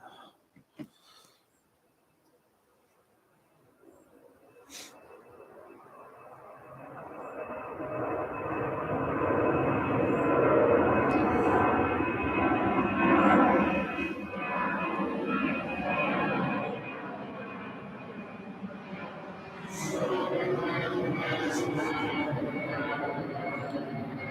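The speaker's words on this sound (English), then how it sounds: "So this is DHL 767 going to Leipzig." A DHL Boeing 767 cargo jet takes off at East Midlands Airport: a distant roar swells over several seconds, holds as a broad rumble, then slowly fades with a second surge, heard from afar outdoors.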